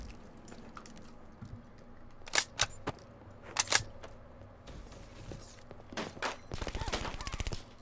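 Bursts of gunfire from a Man-O-War rifle in Call of Duty: Black Ops 3 multiplayer, several sharp shot clusters followed by a rapid volley near the end, over quiet game ambience.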